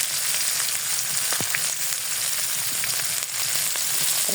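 Onions sizzle and fry steadily in hot oil in a kadai, a continuous close crackling hiss with small pops, no talking.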